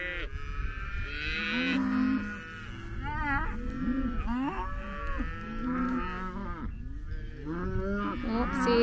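Beef cows from young cow-calf pairs moo loudly and repeatedly, calling for their calves after being moved through two gates across a road; several overlapping bellows come close and continuous.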